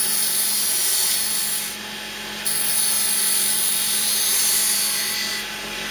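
A wood lathe turns a carving mallet as it is rounded, giving a loud, steady, broadband whir and tool hiss that dips briefly and then carries on without speech.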